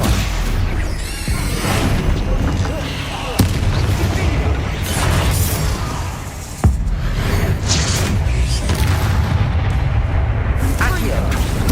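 Rapid, booming spell blasts of Confringo and Bombarda in the video game Hogwarts Legacy, loud dense explosions layered over combat noise, with a voice calling out in places.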